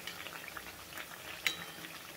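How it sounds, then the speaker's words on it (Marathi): Chakli made from bhajani flour fry in hot oil in a kadhai, a faint, steady bubbling hiss with one brief louder crackle partway through. "आता आपण असंच आपण बाकीच्या चकल्यासुद्धा आपल्या तळून घेऊया."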